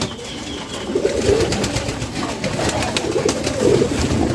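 Pigeons coo in repeated soft, rolling calls close by, over a steady background hiss, with a little faint rustling and no talk.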